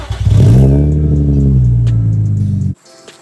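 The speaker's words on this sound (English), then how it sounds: "Should I start it up and see if it smokes?" An Infiniti G35 engine cranks and catches, settling into a loud, steady idle with a low rumble for nearly three seconds before cutting off abruptly into quiet.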